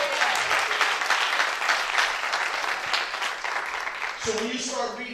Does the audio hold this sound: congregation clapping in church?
yes